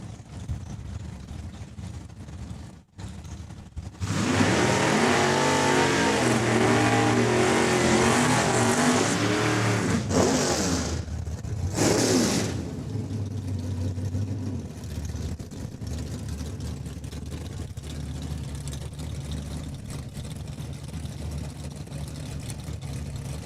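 A Duster and a Mustang drag racing down the track at Saskatchewan International Raceway, their engines roaring loudly as they pass close by, then fading into distant engine noise and crowd murmur.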